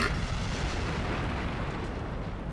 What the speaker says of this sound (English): So poor Kaede actually got roughed up during that explosion